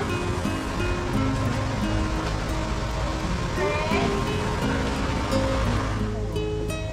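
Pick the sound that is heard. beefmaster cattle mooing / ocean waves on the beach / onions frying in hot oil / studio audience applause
ocean waves on the beach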